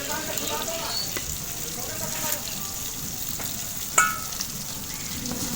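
Ridge gourd and taro frying in a pan for a tilapia chorchori on a home stove, giving a steady close sizzle with a sharp utensil clink partway through.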